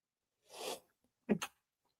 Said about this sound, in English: you're sneezing